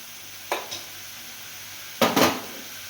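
A spoon scrapes and knocks against a pan as mushroom chukka is stirred, with two short clatters early and a louder double scrape later over a quiet background.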